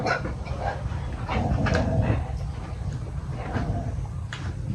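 Dogs pant and whimper close by, with soft yips and snuffling amid a busy, noisy background.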